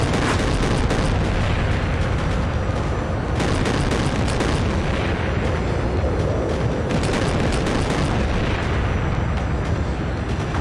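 Dense, continuous booming blasts from a meteor weapon in the game Mecha Knights, loud rumbling explosions overlapping one another throughout with no pause, several sharper bursts standing out, and no talking.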